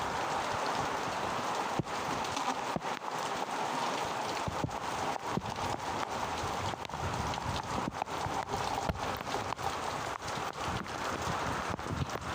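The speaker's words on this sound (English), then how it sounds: "We are going to allow the rain to help us during the watering." Rain falls steadily and loudly outdoors, a dense continuous patter with scattered sharper drops and knocks throughout, no voices.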